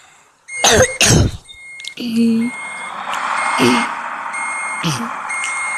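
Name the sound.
truck reversing beeps while backing up to cargo, truck-driving video game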